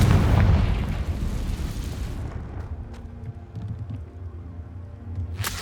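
A Confringo fire spell blast in the video game Hogwarts Legacy: a loud, heavy explosive burst with rumbling roar up front, decaying into a low rumbling tail with faint crackles, and a sharp bright hit at the very end.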